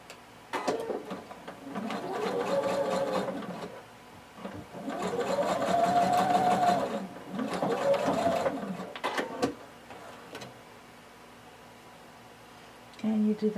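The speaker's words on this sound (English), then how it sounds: "I'm going to sew them using 5/8 of an inch seam allowance." Home sewing machine stitching the shoulder seams of a tank top, three runs of loud, close, whirring motor hum with rising and falling speed, separated by short pauses and handling clicks, no talk.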